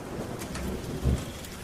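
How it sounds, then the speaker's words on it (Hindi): Heavy rain pours steadily in a thunderstorm, with a low rumble of thunder swelling briefly near the middle of the short stretch; no voices. "आसमान गरजता हुआ बरस पड़ा"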